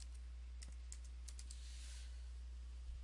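Light keyboard typing during a Windows 8 repair, a short run of faint, scattered keystroke clicks at moderate distance with a steady low hum underneath and no talk.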